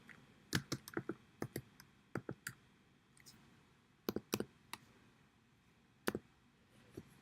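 Typing on a computer keyboard while entering a slide title in presentation software: soft, close key clicks in short irregular bursts with pauses between them, alone over quiet room tone.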